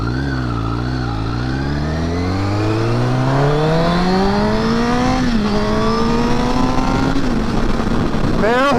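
Honda CBR1000RR sportbike with a servo eliminator, engine loud and close as it accelerates from low revs, pitch climbing steadily through the gears before a brief shift dip and another pull.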